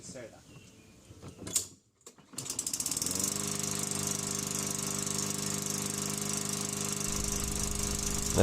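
A small lawn mower engine, its carburetor just cleaned out, catches after a brief rattle and settles into a loud, steady idle that runs on close and unbroken.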